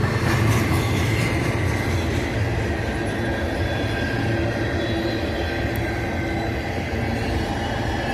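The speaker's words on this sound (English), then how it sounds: "That was a new Pacific train." A Union Pacific train rolls past in Steger, Illinois, a loud, continuous rumble of wheels and rail cars with faint squealing, steady throughout and close by, with no talking.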